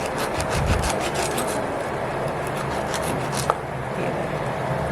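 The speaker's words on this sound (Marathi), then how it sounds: "ब्लॅक ते फक्त आहे ना असं विलीने कापून घ्यायचं" A vili blade cutting through sole fish, producing a continuous close rasping, scraping stroke with no talk over it.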